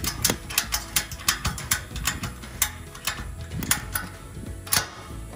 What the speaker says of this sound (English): it's just a matter of tightening down the ratchet